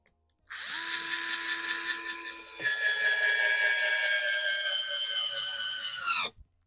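WORX WX242 4 V cordless screwdriver driving a 55 mm screw, a steady high motor whine lasting about six seconds with a brief pitch shift partway through, close and clear with no talking.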